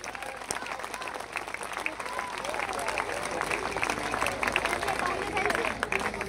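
An audience at a live Hindi kavi sammelan poetry event bursts into dense, continuous applause that holds steady and swells slightly, mixed with crowd murmur.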